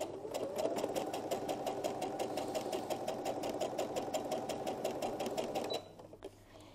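Sewing machine stitching fabric held by hand, a fast, even mechanical rattle of needle strokes for several seconds that stops abruptly near the end.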